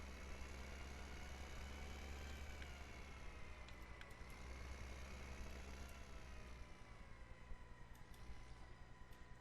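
A tractor in Farming Simulator runs with a low, steady engine rumble layered with a higher transmission whine. The sound is faint and continuous, with a few small clicks over the top.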